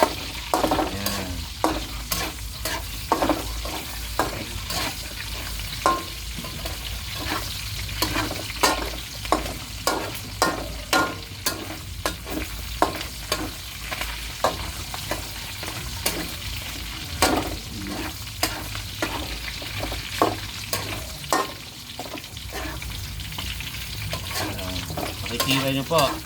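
Food sizzles steadily in a hot pan while a utensil scrapes and stirs in a rhythmic series of knocks, close by with no talking.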